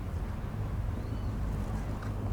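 A simple boat engine runs with a steady low rumble, mixed with wind buffeting and water noise throughout.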